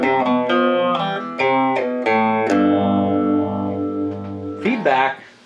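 Guitar played through an Ibanez PH7 phaser pedal, several plucked notes and a sustained chord with a sweeping, swirling tone, distorted and up front, ending in a brief scraping strum.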